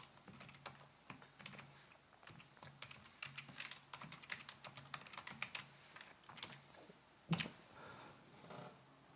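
Quiet, rapid keystrokes on a computer keyboard while a script is written in an API testing tool, an irregular close patter of clicks with one sharper louder tap near the end and no talk.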